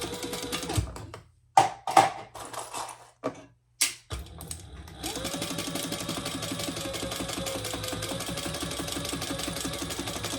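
Scattered handling knocks and clicks come first, then a sewing machine runs in a steady rapid stitching drone while it sews down the side seam of a fabric crossbody phone pouch bag.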